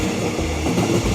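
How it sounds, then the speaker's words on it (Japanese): An express train of the Thai State Railway's Nam Tok line rolls past close by, a steady loud rumble of wheels and carriages that fills the whole stretch without a break. "うちの急行列車はなんかだいぶ立派な電車だね。"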